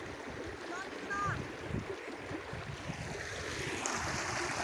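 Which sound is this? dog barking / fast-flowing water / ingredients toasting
fast-flowing water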